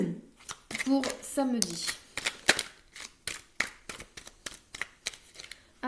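Tarot cards being shuffled and drawn from a deck, quick close crisp riffles and snaps in a rapid irregular run, with someone speaking briefly at the start.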